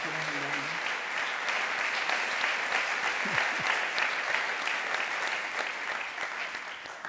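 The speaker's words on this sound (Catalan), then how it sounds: "al final han aplaudit i no se te sentia" Steady, fairly loud applause from an audience at the closing of an independence movement's national conference, sustained without pause for several seconds after a speech ends, with a brief voice under it near the start.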